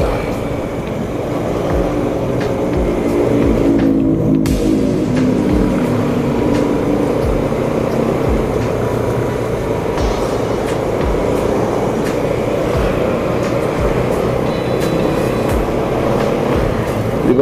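A Toyota Hilux 3x3 drives by with a steady low engine rumble and road noise, loud and continuous, while people talk over it.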